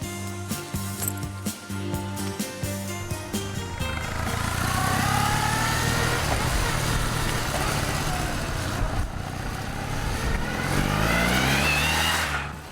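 A BMW custom cruiser motorcycle with a telelever front end rides past: a steady mid-pitched engine drone that builds and rises in pitch as it accelerates, fairly close, after a brief stretch of clinking sounds at the start.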